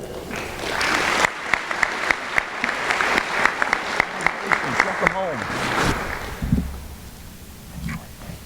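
Applause at a convocation ceremony, with scattered and rhythmic clapping from the audience building up, while a voice speaks over it before the clapping fades.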